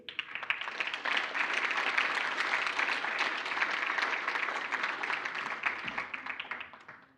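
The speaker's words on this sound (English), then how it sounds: "That applause is getting a little faint." An audience applauds a grade 5 primary school student at an accountability and justice conversation event, a dense, even roll of many hands clapping that fades out at the end.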